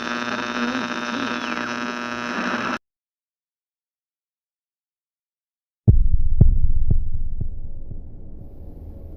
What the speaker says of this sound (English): That's the sound of your emergency self-destruction system going on.